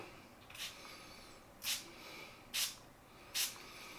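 Four short, breathy spray hisses from a cologne atomizer spraying into a hand, evenly spaced about a second apart, close up in a quiet room.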